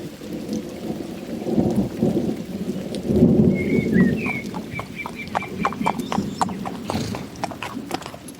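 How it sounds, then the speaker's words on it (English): Steady rain pours down with deep rumbling thunder rolling through, while a bird chirps briefly in the background. "sheltering from a sudden rain shower"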